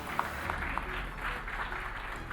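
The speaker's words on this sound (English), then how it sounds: "A round of applause." Faint, distant applause from an audience at a tech presentation, a soft patter of clapping hands heard at low level in the room.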